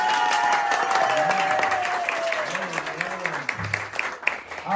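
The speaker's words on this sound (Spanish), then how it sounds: "Aplauso por el número uno." Crowd clapping and cheering for contestant number one in a human snowman contest, a steady wash of applause with a whistle and voices over it.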